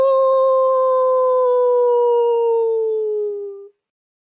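A dog gives one long, clear howl that holds steady and slowly sinks in pitch for almost four seconds before cutting off, with no other sound around it.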